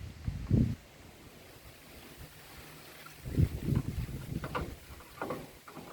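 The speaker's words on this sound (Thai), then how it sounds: "พายุเข้าเด้นี่" Strong gusts of wind from an approaching storm buffet the microphone in bursts of low rumbling roar, separated by quieter lulls of steady outdoor noise.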